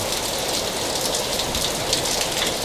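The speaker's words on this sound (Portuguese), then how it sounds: "Olha a chuva, tá vendo?" Rain falls steadily on surfaces in the Vila Regina neighborhood of Itaquera, São Paulo, a dense, even hiss of many drops with a few louder patters, heard close with no talk.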